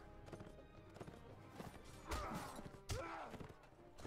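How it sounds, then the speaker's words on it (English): Horse hooves pound in rapid clip-clop during a cavalry charge in Mount & Blade Warband, with heavy thuds and clashing impacts layered over the galloping rhythm, fairly quiet overall. "Not the best charging horse, but still, you can charge with it."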